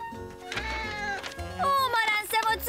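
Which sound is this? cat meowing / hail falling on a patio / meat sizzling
cat meowing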